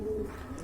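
Pigeons kept for sale in a fancy-pigeon collection give a brief, faint, low coo, heard softly in a quiet setting.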